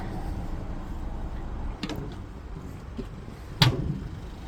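Rear cargo doors of a 2024 Renault Master L3H2 diesel van that open to 270 degrees, with soft handling noises followed by a sharp metallic latch clunk and door movement, heard alone over a quiet background.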